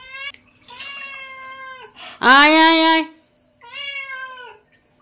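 A cat meows repeatedly up close indoors at night, with one long, loud, drawn-out cry in the middle, while a person calls to it softly.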